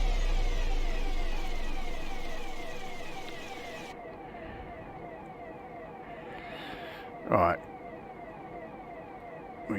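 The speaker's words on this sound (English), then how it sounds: "we can turn off the sirens" Warning sirens on a DR73 ballast tamper in Train Simulator Classic, a repeating wailing tone that cuts off partway, followed by a brief burst and a voice speaking.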